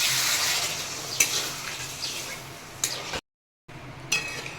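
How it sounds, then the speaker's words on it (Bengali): Water poured into a pan of fried potatoes for a vegetarian pea dal curry, a bright sizzling hiss with clinks of the pan, dropping out briefly before sizzling again. "এবারে আমি জল দিয়ে দিচ্ছি"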